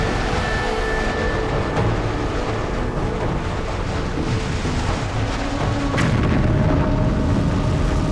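A continuous, dense rumbling roar fills the space, loud and unbroken, like a massive explosion of two colliding planets annihilating each other, with a sharper crack partway through.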